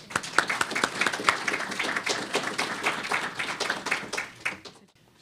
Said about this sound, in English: So I want to give Kathy a big round of applause for supporting this and for everything she does here to be a cha